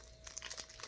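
A sheet of very fine gold leaf paper, taken out while unboxing an order, crinkles and rustles faintly in a short burst of close, delicate crackles.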